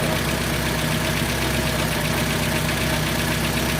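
A barn-find car engine runs on its first start after 27 years, idling loud and steady with a rough, uneven undertone inside a shop while an exhaust fan runs.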